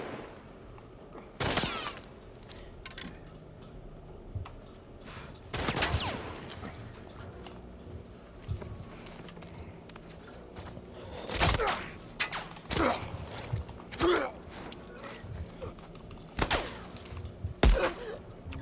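Bursts of gunfire crack out in scattered volleys during a Left Behind DLC video game level, aimed at the player. Sharp loud shots and short rapid clusters come with thuds and quieter stretches between them.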